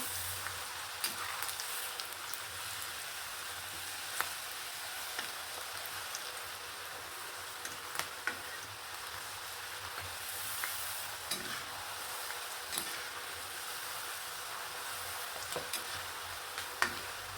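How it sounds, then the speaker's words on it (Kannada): Field beans (avarebele) frying in bubbling oil for a snack mixture, a steady soft crackling sizzle with occasional sharper pops and scrapes as they are stirred, no talking. "ಇದೇ ಥರ ಚೆನ್ನಾಗಿ ಬಬಲ್ಸ್ ಬಂದು ಇವೆಲ್ಲ ನಿಂತೋಗ್ಬೇಕು ಈ ಬಬಲ್ಸು ಅದು ತನಕ ಹುರ್ಕೋಬೇಕಾಗತ್ತೆ"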